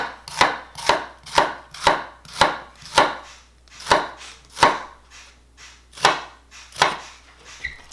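A knife chops food on a cutting board for a finer cut, about a dozen sharp, evenly spaced strikes landing close and clear, with no talking.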